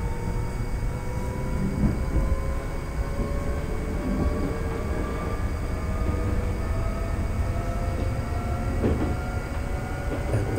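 A London Underground Northern Line train in a train simulator runs steadily toward Kennington, a continuous rumbling roar with faint whining tones drifting through it, even and unbroken throughout with no voices.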